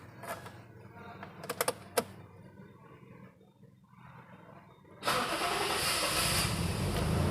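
A 1991 Toyota Crown Royal Saloon 2.0i automatic, fuel-injected with no immobilizer, is cranked with its metal key after a few faint clicks; the engine catches abruptly and settles into a loud, steady idle close by.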